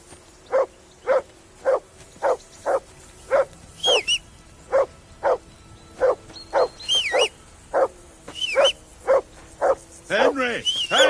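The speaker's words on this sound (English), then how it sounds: "Call off that mutt of yours." Dog barking in the medieval game Kingdom Come: Deliverance 2, a steady run of about twenty sharp, evenly spaced barks close by, with a voice calling out briefly in between and near the end.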